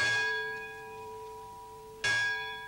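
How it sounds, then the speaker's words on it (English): The Lutine bell at Lloyd's of London, rung for a successful salvage: a ringing bell tone decays slowly, then a second sharp strike rings out clearly near the end, with no voices. "the lutein bell was rung twice, signifying a successful salvage"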